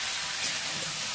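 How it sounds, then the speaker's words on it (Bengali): Potato and ridge gourd fry in a pan with a soft, continuous sizzling hiss over a brief moment, fairly quiet and without speech. "ঝিঙেগুলো দিয়ে এবারে আমি আলু আর ঝিঙেটা একসাথে আরেকটু ভেজে নেব।"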